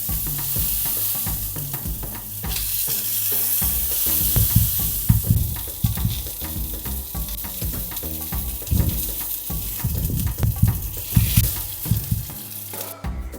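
Meat sizzles steadily in a hot oiled pan, salted and browning on each side, with repeated scraping and stirring clatter near and fairly loud throughout, no talking.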